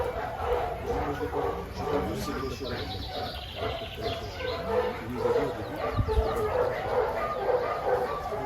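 Malinois dog barking during a mondioring trial as the attack decoy provokes it, with repeated sharp barks and whimpers over steady outdoor crowd and field noise, with voices in the background.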